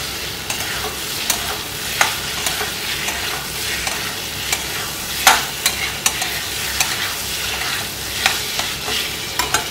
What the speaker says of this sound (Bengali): এবার আলুর সাথে মশলাটাকে ভালো করে কষানোর পরে